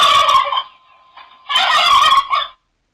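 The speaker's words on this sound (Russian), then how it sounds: "Великолепно. Индюк." Turkey gobbling twice, loud and close: a rapid warbling burst, a short pause with a faint trailing note, then a second longer gobble ending in a brief tail.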